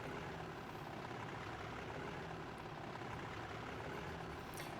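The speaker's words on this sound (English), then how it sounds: "That's beginning to sound like a Deltic." Deltic diesel locomotive engine in the Amiga game Train Driver, a steady low droning rumble running continuously at moderate level with no talk over it.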